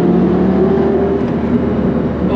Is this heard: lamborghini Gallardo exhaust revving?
yes